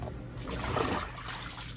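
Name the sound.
water rinsing out of dyed fabric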